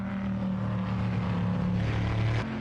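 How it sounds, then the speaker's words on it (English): A simulated Trans Am racing car engine drones steadily through the Bridgehampton hairpin in a sim racing game as the driver stays off the throttle, and its pitch shifts slightly toward the end. "you can hear from riding on board with Ridequist how he's off the gas as they go through the apex of it"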